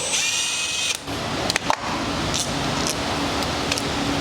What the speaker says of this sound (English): right now we're going to loosen the brake caliper lah. So there's 2 screws, size 12.